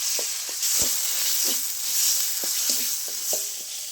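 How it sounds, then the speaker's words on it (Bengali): Spice paste (masala) frying in a pan makes a loud, constant sizzling hiss, broken by short spatula scrapes and taps as it is turned, with no one speaking. "মশলাটা ভালো কষানো হয়ে গেছে, এবার আমি ঝোল ঢেলে দেবো"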